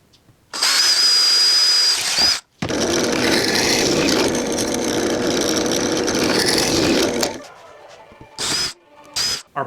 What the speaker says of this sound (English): I'm going to drill a 1/2 inch hole for my French Cleat bottom mount